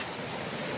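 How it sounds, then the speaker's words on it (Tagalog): Strong floodwater rushes through a swollen river in a steady, dense roar, close and continuous with no pauses. "Ang lakas ng tubig, oh. Ang lakas ng baha."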